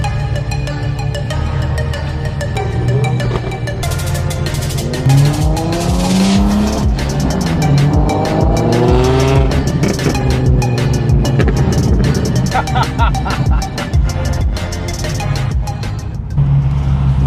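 A twin-turbo Amuse 370Z drives hard nearby, its engine roaring loud and steady while tires squeal in long wavering skids, with bursts of revving through the whole stretch.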